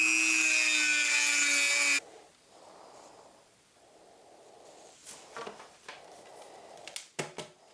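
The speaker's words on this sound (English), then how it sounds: "Sand out the threads inside the cap until it fits comfortably over the 1 inch PVC pipe." Sandpaper rubbed by hand inside a ribbed 1-inch PVC cap to wear down its threads, a series of soft, scratchy strokes in short bursts with small knocks between, following a loud hiss that cuts off.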